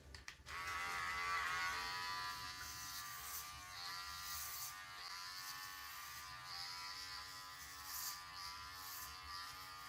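Electric hair clippers fitted with a half guard buzz steadily through hair during a buzzcut, a close, continuous droning whine with slight shifts in pitch as they move.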